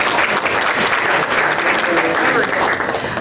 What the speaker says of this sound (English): can you all take a big old breath and applaud your volunteer facilitators and note takers?